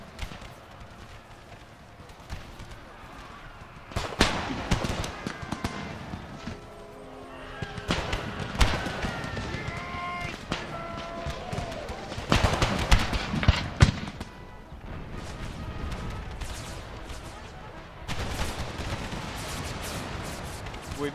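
Union infantry musket volleys in a Civil War video game, repeated ragged bursts of crackling gunfire spread over twenty seconds, with thuds, hoofbeats and faint voices between them.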